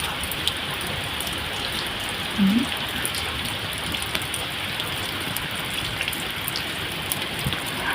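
Steady rain falling outdoors over a home vegetable garden during the year's first rain, a dense even patter continuing throughout at moderate loudness with no talking.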